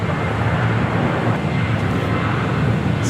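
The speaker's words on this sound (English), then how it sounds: "It's flight 522 coming in from San Salvador" Flight 522 from San Salvador comes in to land at LAX, heard as a steady, broad jet roar that stays fairly loud and even throughout, with no speech.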